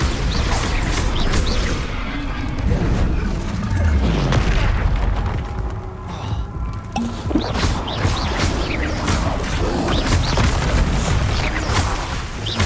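Repeated Bombarda blasting spells in Hogwarts Legacy combat: a dense run of deep booms, crashes and whooshes, loud and nearly continuous over busy battle noise.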